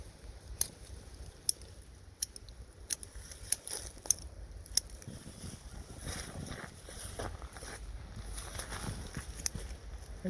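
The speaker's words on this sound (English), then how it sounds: "I just cut all the new growth around" Shears trimming new growth on a wild-collected larch bonsai, a series of sharp, distinct snips spaced out over a few seconds, followed by soft rustling and outdoor background noise.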